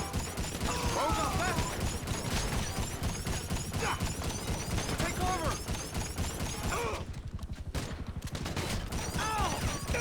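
Assault shotgun blasts in GTA Online's Tier 4 Survival at a meth lab, a dense string of loud gunfire bursts with other weapons and game noise all through, easing briefly before resuming.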